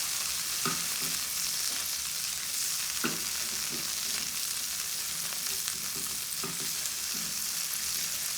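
Samosa potato filling fries in a pan with a constant close hiss of sizzling oil, while a utensil stirs it with occasional soft taps and scrapes.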